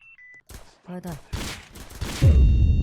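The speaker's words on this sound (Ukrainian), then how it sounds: "то що ти в мене стріляєш?" Gunfire in the video game Random Mafia Shooter comes in several sharp, close bursts of shots that grow louder toward the end, after a couple of brief electronic beeps.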